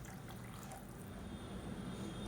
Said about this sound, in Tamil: இப்போ அந்த தண்ணி அப்படியே சேர்த்துக்கலாம்.